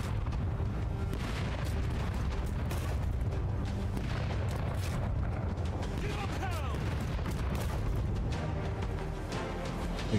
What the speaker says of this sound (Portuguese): Atacar com os canhões.